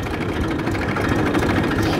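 A Massey Ferguson 241 tractor engine runs close by as the accelerator is pressed, a loud steady diesel rumble that holds without a break for two seconds.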